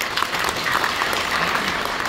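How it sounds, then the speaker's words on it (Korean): An audience claps to welcome a speaker at a panel discussion, a dense, even burst of applause lasting about two seconds at steady loudness, with no talking over it. "큰 박수로 환영해 주십시오."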